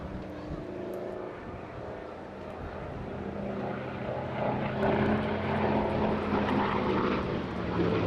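A Hawker Fury FB.11 piston-engined propeller fighter flies a display at Eastbourne Airshow 2022, its continuous rough engine drone swelling louder toward the end of the pass, heard steadily at a moderate distance.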